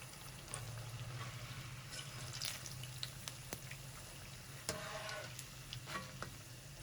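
Puffed pakoras fry in hot oil with a quiet, continuous bubbling sizzle throughout. Faint stirring clicks and a few soft knocks sit on top of it. No voice is heard.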